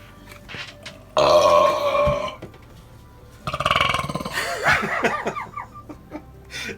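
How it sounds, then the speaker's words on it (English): A person lets out a loud, long burp, then a second drawn-out burp, with laughter breaking in around them. "that was your best burp yet"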